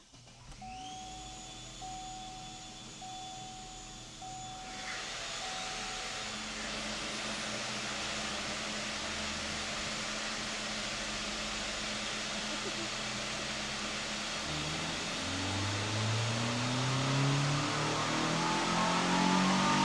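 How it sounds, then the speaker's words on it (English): Four leaf blowers rigged as a makeshift supercharger on a Chevy Sonic on a dyno produce a loud, rising, steady blower whine and rushing air. Engine tones climb and build toward the end, with no speech over them. "let's try 4 blowers."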